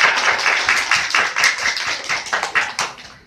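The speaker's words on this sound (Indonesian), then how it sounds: "tepuk tangan anak-anak yang pintar" Children in an elementary school classroom clapping together, a quick run of roughly a dozen sharp, fairly close claps in an uneven rhythm.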